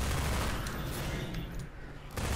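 Dense, continuous gunfire from the video game Minerva Metastasis, a loud sustained barrage of rapid shots with a brief dip near the end before it resumes.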